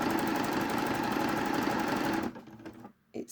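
A domestic sewing machine running a slow stretch stitch on jersey fabric, a steady close mechanical whir with rapid needle chatter that stops abruptly partway, followed by a few faint clicks and handling noises.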